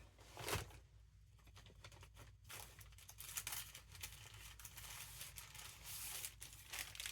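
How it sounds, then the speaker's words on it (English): Paper crackles and crinkles as it is crumpled and handled up close, with irregular rustling bursts and a few sharper crunches throughout. "very big bag of packaging paper"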